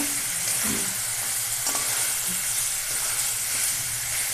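Chicken pieces frying in oil, a loud, close, continuous sizzle and hiss with occasional soft stirring movements.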